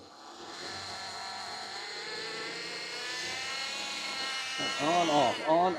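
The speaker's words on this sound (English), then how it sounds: "I need you to just do like a soft, like 1500 RPM, back and forth." A car engine idles and is revved gently and evenly for a mobile mechanic job, a steady hum that swells slightly toward the end, with a person talking over it in the final second.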